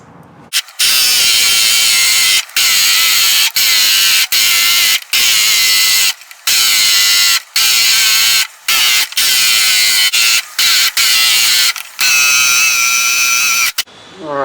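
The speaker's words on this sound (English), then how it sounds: "I'm just going to rock on with that 3/8 Forstner" A drill boring with a 3/8 inch Forstner bit into a corner of a flats skiff boat interior, near the keel beam; a loud, steady whine in repeated bursts of one to two seconds, separated by short pauses, with no talk over it.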